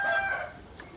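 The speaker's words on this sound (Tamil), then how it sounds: "நம்மளோட கோழி கொஞ்சம் இங்கே இருக்குது" Chickens offered for sale, including some large birds, give a brief, close, loud cry that sounds more like a crow than soft clucking, then quickly fade.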